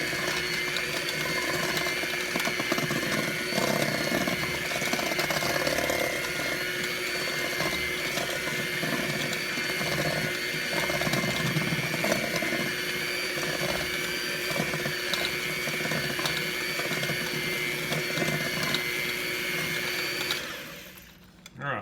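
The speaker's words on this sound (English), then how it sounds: "Mix pudding and milk for a couple of minutes." An electric mixer whirs continuously while blending pudding mix and milk, a steady motor drone with a faint churning texture that runs for about twenty seconds before cutting off.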